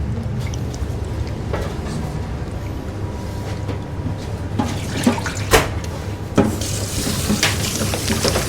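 Tap water runs steadily into a sink while cuttlefish are rinsed in a kitchen, a continuous wash with a few brief splashes and clinks partway through.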